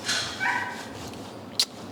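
A dog that dislikes baths whimpers and yips in short bursts while being washed, a few brief cries close by over a steady background of running water or room noise.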